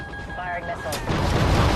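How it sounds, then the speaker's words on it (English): A missile launching in the military shooter Call of Duty: Ghosts, a sudden burst that swells into a loud, sustained roar over a steady electronic hum, with a voice talking beforehand. "Firing missile. Missile loose."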